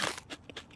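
Crunchy cat food cracks between teeth in a few quick, close bites, each a short dry crunch fading into the next.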